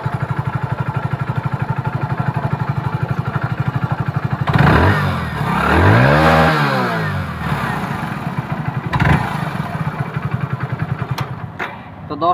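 A Hero Splendor BS6 motorcycle engine runs after a new timing chain install, idling with a steady rapid putter, then revving up and down in several swells before settling back to idle.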